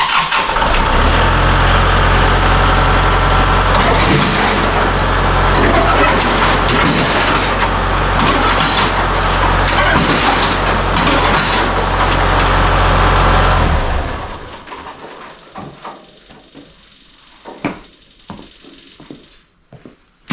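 A tractor's hydraulics angle a truck-mount snowplow: a loud, close engine drones and strains steadily for about fourteen seconds, then cuts out, leaving scattered clunks and knocks in a quieter background.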